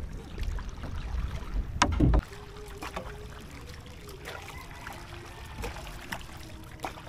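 A yacht motors along on open sea, its engine rumbling low with splashing and wind, a loud thump early on before the noise settles to a steady drone.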